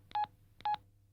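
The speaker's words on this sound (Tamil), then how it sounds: "பாய்ஸ்க்கு ஃபோன் பண்ணணும்." A telephone keypad beeps twice, two short evenly spaced dialing tones in an indoor comedy setting, close and clean over a faint low hum.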